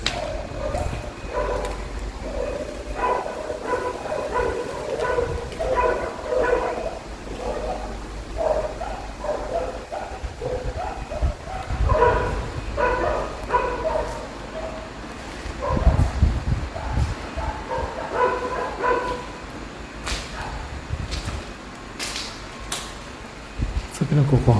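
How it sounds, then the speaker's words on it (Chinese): Several dogs bark angrily in bursts at a moderate distance around a house, with people talking over and between the barks and a steady fan-like hum underneath. "这边的狗狗好生气吧"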